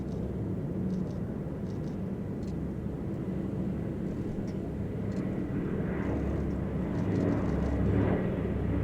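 Douglas DC-3 piston airliner flying past at an air festival, a steady droning engine roar held at a distance that swells slightly toward the end, with no talk.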